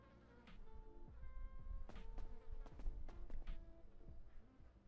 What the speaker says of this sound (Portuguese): Olha o barulho de mosca.